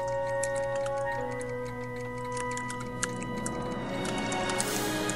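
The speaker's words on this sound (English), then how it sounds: "This is old Doc Brown's laboratory. There's a lot of clocks" Many clocks tick together in Doc Brown's laboratory in the Back to the Future video game, a steady overlapping clatter of ticks over a sustained hum and soundtrack tones, with no talking.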